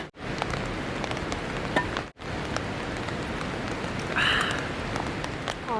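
Rain falling on a forest campsite, a dense steady patter of drops close by with scattered sharper taps on surfaces, two brief cutouts and a faint chirping sound near the end.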